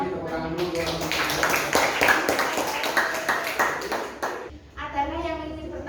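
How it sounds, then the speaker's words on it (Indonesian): A classroom group claps together in a brisk burst of overlapping handclaps lasting a few seconds, then fades as a voice starts talking. "tepuk tangan dulu"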